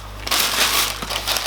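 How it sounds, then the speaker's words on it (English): Elephant-print tissue paper crinkles and crushes inside an Air Jordan 3 Fire Red sneaker box, a loud, close, continuous rustle with a few sharper crackles and no talk. "So you do get 2 layers of paper, so you'll have your elephant print and then you'll have your classic white print"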